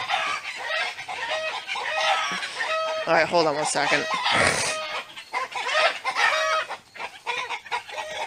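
Backyard chickens raising an alarm, loud agitated clucking and squawking with a crow-like call in the middle, close by, with a person speaking briefly over it.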